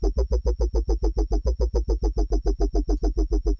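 Original dubstep bass line being recreated in Serum, a loud, distorted growl repeating in steady rapid pulses at roughly five per second, played alone with no voice over it.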